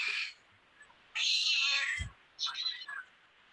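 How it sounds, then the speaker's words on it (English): A cat meows in a sound guessing game, three separate high, nasal meows with short pauses between them, fairly close and clear. "it sounded like a cat"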